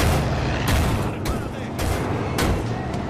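Explosions and gunfire in the Far Cry 5 video game: several loud sharp booming blasts at irregular intervals over a dense rumbling battle din, with voices under it.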